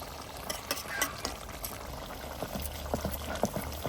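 A Bengali fish curry of small hilsa with cauliflower leaves and coriander simmers in a pot, giving a steady, close bubbling with soft irregular pops.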